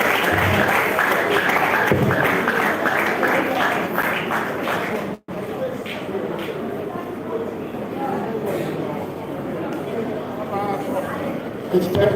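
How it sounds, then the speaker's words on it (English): An audience applauds Professor Adekunle Kunle, president of Ibadan Boys High School, at an honoree ceremony: rapid clapping across a crowd, strongest early, with speech and chatter running over it after a brief dropout. "Please, a round of applause for him."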